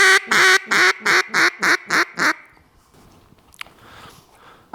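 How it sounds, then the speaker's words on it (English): A handheld duck call blown through a routine of quacks, hails and a feeder call: a loud run of about eight evenly spaced, honking quacks, then softer, quieter chatter trailing off close to the microphone. "Now, I'm going to show you why duck calls are woodwind instruments"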